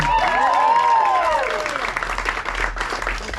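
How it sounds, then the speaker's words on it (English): Audience applause for comedian John Nelson at a comedy competition prelim, a dense wash of clapping and some cheering right after his set, with a voice talking over the start before the clapping carries on alone. "Keep clapping for John Nelson"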